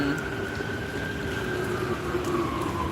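Steady rain pours down outside while someone waits it out, a dense continuous hiss with a faint tonal hum running beneath it.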